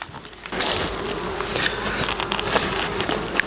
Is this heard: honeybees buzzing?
yes